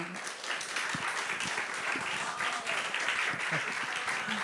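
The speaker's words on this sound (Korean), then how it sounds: "우리 귀한 간증해 주신 우리 한예원 자매님께 다시 한번 큰 박수 부탁드리겠습니다" A church youth-service congregation applauds after a testimony, a steady wash of clapping at moderate distance with faint voices murmuring underneath throughout.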